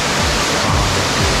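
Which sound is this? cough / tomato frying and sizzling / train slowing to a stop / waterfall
waterfall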